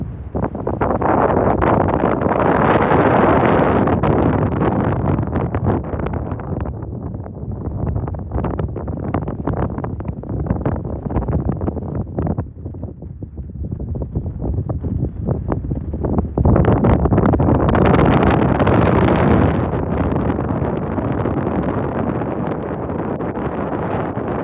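Cold night wind gusts across an open camp in the Scottish Highlands, a loud, continuous rumbling roar buffeting the microphone, easing midway and then surging again.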